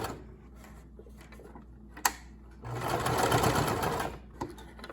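Sewing machine running in a short, steady burst while stitching pleats into a child's fabric face mask, near and clear after a quiet pause with a single sharp click.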